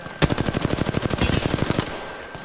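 Rapid automatic gunfire in the Apex Legends video game, a fast, even burst of about twenty loud shots over under two seconds that then trails off into background game noise, with no talking.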